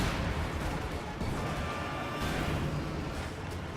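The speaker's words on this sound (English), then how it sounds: "Wow, that's a lot of explosions going on." Artillery shells pound away in Company of Heroes 2, a continuous dense roar of overlapping blasts and rumbling gunfire with no pause, loud and close.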